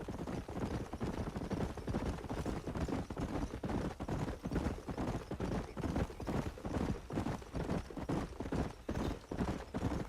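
Horse hooves clip-clopping in the video game Red Dead Redemption, a steady, fairly loud rhythmic trotting beat that runs without a break.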